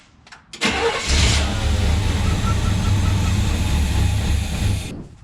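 An old Chevrolet Suburban, left sitting for five years, cranks loudly and steadily with the throttle held, a continuous churning drone lasting about four seconds before cutting off, with no catch or start.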